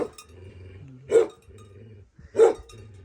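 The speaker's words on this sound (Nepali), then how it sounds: "कुकुर कराउनु भएको छ" A dog gives two sharp, separate barks a little over a second apart, fairly close and loud above a quiet low hum.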